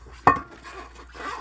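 Cooking pots and dishes being handled while washing up, a single sharp metallic clank near the start followed by faint, soft rattling and shuffling, close by and with no speech.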